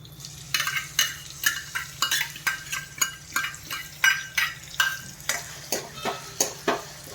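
Chopped capsicum being sautéed for pav bhaji in a pan with a thick, warm base, rapid rhythmic scraping strokes of a spatula over a low sizzle, close and fairly loud, with no speech.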